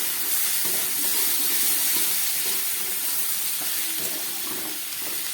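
Ground coriander and dried chilli powder fry with shrimp and kudri in a pan, a steady, loud hiss of sizzling with soft stirring scrapes underneath.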